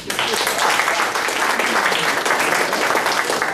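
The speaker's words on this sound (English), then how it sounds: "So give yourself a big round of applause." Dense, steady applause from a large audience at a talk by a district attorney on the death penalty, a continuous wash of many hands clapping at full volume throughout.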